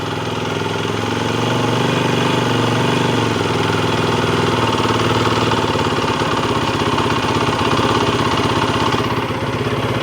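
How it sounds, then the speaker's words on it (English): A Yamaha YZ450F dirt bike engine idles loud and close with a steady, fast-pulsing rumble. The idle is set a little high and changes slightly near the end as it is adjusted, with no talking. "That idle seems a little high to me, personally, so I'm going to turn it down."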